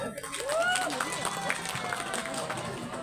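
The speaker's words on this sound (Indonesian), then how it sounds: "Tepuk tangan untuk kita semua." Students and guests at a junior high school event in Mesuji clapping together, a dense crowd patter with some cheering and a voice over it, sustained from start to finish.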